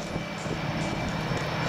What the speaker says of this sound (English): All right, the T-34s that went by.